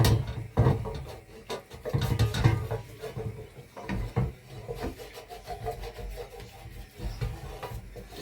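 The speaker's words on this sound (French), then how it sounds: "On gratte les sucres." A utensil scrapes caramelized juices from the bottom of a pan during deglazing, rough rasping strokes repeating close up in uneven bursts, loudest at the start and then continuing more softly.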